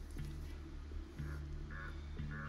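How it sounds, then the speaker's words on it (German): A bird caws as it lands in a Fortnite animation, several harsh crow-like calls repeating under a dense game soundtrack with low, steady background music. "Es landet einfach ein Vogel da."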